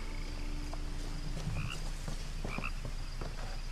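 Frogs croak repeatedly over a steady background hum in the video game What Remains of Edith Finch, several short throaty calls overlapping at moderate distance, with no voices.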